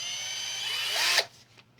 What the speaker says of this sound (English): So I do this with a 1/8 drill